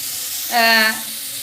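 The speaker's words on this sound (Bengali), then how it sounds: "আমি উচ্ছে আলু ঝিরি ঝিরি করে কেটে নিয়েছি এটা ভাজব" Sliced bitter gourd and potato, cut into thin strips, fry in hot oil with turmeric. A continuous sizzle runs throughout and swells into a louder, brighter burst in the middle before settling back. There is no speech.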